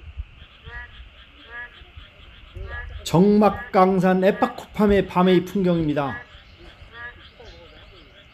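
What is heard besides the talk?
frogs and narrow-mouthed toads croaking at night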